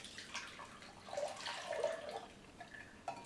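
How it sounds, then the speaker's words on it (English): Juice from an Omega VSJ vertical slow juicer being strained, giving soft trickling and dripping liquid sounds with small splashes, faint and close, and no voices. "Next, we're gonna go ahead and strain out the Omega VSJ juice."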